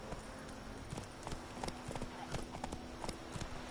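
Roach, Geralt's horse in The Witcher 3, gallops in a steady rhythmic clip-clop of hooves at close range, with a low background hum beneath.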